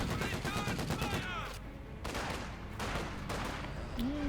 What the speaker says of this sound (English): I guess it's a bit of light artillery there for the Germans